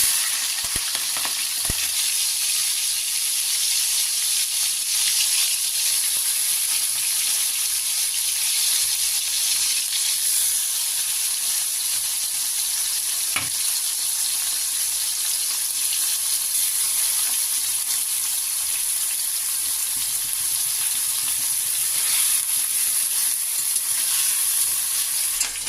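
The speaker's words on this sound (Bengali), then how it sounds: "এখন আমি চিংড়ি মাছগুলো ভেজে নেব" Prawns fry in hot oil in a wok, giving a long, even, close sizzle that holds steady throughout, with a couple of faint clicks and no voices.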